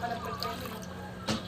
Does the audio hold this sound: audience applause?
no